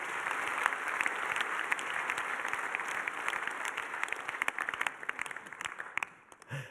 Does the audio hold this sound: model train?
no